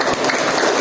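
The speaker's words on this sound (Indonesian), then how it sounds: "beri aplaus buat leader-leader kita yang luar biasa" Audience applause for company leaders at a corporate reward ceremony for PT ABI Duta Indonesia, a dense, steady burst of many hands clapping that fills the whole moment without talk.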